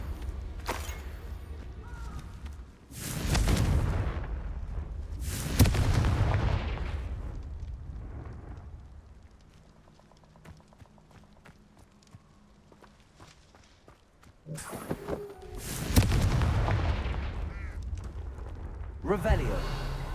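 Confringo explosion spells go off in the Hogwarts Legacy video game, three loud booming bursts separated by quieter stretches of low rumble and game ambience.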